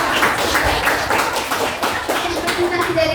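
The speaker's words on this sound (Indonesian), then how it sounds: "beri tepuk tangan kepada kelompok" A classroom claps for a presenting group, a close, uneven burst of many hands with scattered distinct claps, while a voice talks over it.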